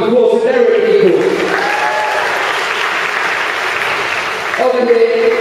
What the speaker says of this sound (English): Round of applause for Derek, of course.